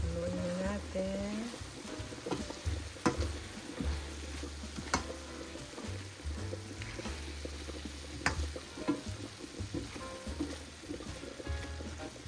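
Bitter gourd sautéing in a pan with a steady low sizzle while being stirred, spatula taps and scrapes clicking now and then, under a person talking.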